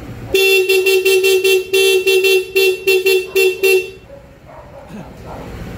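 A loud, brassy aftermarket Corsa horn on a Honda ADV 160 scooter blaring in rapid repeated honks, a dozen or so short blasts in quick rhythm, then quieter background noise.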